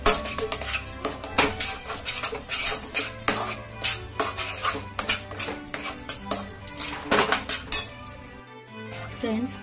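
A utensil stirs and scrapes modak filling of rose petals, pistachio and almond slivers in a kadhai, giving repeated metallic clinks and scrapes in an uneven rhythm, close and clear, with a faint voice briefly near the end.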